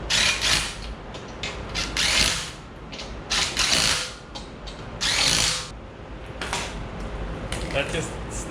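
A power tool snugs the lug nuts on a Dodge Grand Caravan minivan wheel during a brake job, heard as several short, loud whirring bursts with pauses between them, close by.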